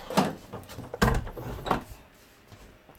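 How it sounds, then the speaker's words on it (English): A door is shut indoors with a few close knocks and thumps in quick succession, followed by quiet. "Let me just close that door."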